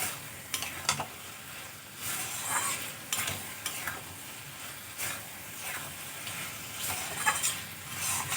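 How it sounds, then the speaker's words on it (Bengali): Fried potatoes and spices being stirred in a pan for egg omelette curry make a soft, close sizzle broken by repeated scraping strokes of the spoon. "আলুগুলো দিয়ে আমি ভালো করে মশলার সাথে মিশিয়ে আরও কিছুক্ষণ কষিয়ে নেব।"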